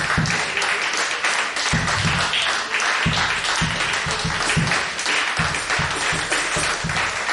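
A church congregation applauds the Lord loudly and steadily for several seconds, a dense wash of clapping with a few stronger rhythmic claps and faint voices mixed in.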